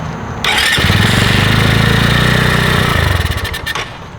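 A motorcycle that had been submerged underwater cranks briefly and then fires up, settling into a loud, close, rough chugging idle that stays steady for a few seconds before faltering near the end.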